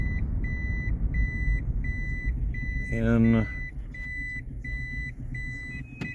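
Loud, evenly spaced backup-alarm beeps repeat steadily while a Toyota Prius sits in reverse, over engine rumble, with a brief spoken word partway through.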